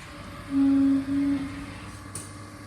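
A Haas VF3 CNC mill runs an axis warm-up at 25% speed, giving a steady tonal servo hum that swells for about a second over a quiet workshop background.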